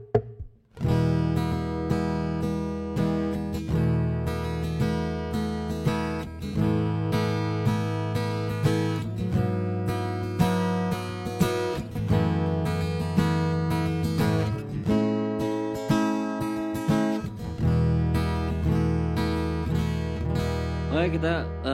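A Peavey DW 4 acoustic guitar picked up through its piezo and a microphone blended together, strummed chords ringing steadily and close for the whole stretch with no voices.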